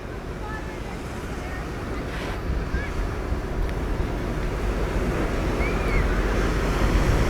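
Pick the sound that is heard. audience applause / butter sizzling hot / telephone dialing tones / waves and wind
waves and wind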